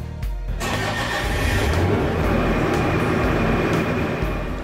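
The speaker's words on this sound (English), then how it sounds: "Lower the control console and start the engine." A Bobcat compact excavator's engine cranks and catches after a brief quiet start, then settles into a loud, steady diesel idle that rumbles on without a break.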